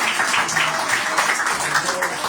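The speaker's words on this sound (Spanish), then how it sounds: "¿Cuántos van a dar un aplauso al Señor de alabanza de verdad?" A church audience applauds, giving a brief burst of dense, steady clapping that is close and fairly loud.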